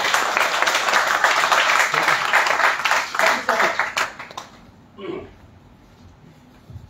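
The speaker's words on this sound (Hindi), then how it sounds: "मैं चाहता हूँ कि हमारे अमित सर के लिए भी जबरदस्त तालियां हो" An audience applauds a presenter named Amit sir at a Modicare seminar, dense loud clapping for about four seconds that tapers off, followed by a brief voice and quiet.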